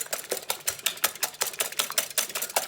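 Two jumbo eggs are whisked until frothy, a quick, steady run of light clicking taps from the whisk against the bowl, close and alone.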